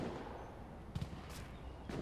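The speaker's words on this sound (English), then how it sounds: "Gunfire." Gunfire in the Space Engineers video game: a few sharp shots crack out in quick bursts over a steady background hum, sounding fairly distant.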